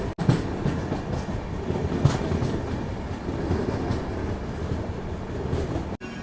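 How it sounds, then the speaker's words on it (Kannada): The Rani Chennamma Express runs steadily on South Western Railway track, a continuous rumbling roar of wheels and carriages with faint rhythmic clatter, heard from inside a first AC coupe, with two sharp breaks in the sound. "ನೈಋತ್ಯ ರೈಲ್ವೆಯ ರಾಣಿ ನಮ್ಮ ರಾಣಿ ಚೆನ್ನಮ್ಮ ಎಕ್ಸ್ಪ್ರೆಸ್ ಈಗ ಎಂಟ್ರ್ ಆಗೈತೆ ರೀ"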